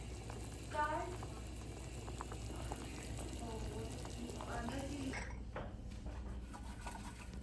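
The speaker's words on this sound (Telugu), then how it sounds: "అన్నం ఉడుకుతా అంటే ఎట్లుంది చూడండి." Rice boiling in a pot on a home stove, a steady low bubbling and simmering close by, with faint kitchen clatter and a brief shift in the texture toward the end.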